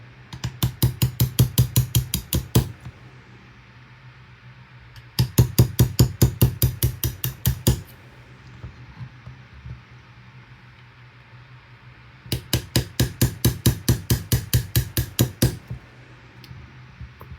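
Hammer tapping on punches to drive pins out of a TX22 pistol, three bursts of about a dozen rapid sharp metallic taps each, separated by pauses, loud and close with no talking.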